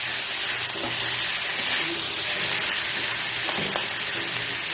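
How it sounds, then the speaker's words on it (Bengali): Cashew and milk paste for vegetarian navratan korma fries on high flame, a steady close sizzle and bubbling broken by a couple of stirring scrapes, with no talking. "ফ্লেমটা বাড়িয়ে একটু ভাজা ভাজা করে নিচ্ছি।"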